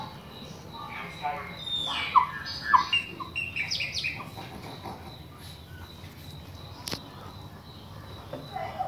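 A black bird (pássaro preto) sings indoors in a small room, its chirps and whistled phrases fairly faint and scattered over a low background hum, with a sharp click near the end.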